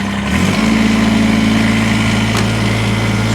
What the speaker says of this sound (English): We're going to go ahead and fire this tractor up.